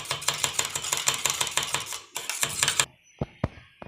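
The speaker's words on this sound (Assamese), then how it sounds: "এতিয়া মই এটো ভালকে ফেটি লম কণীটো যিমান ধুনিয়াকে ফেটিম সিমান ভালকে ফুলিব" Eggs being beaten briskly in a bowl for an Assamese egg roll, a fast run of close clinking whisk-on-bowl strokes that pauses briefly, resumes, then ends with a few isolated taps.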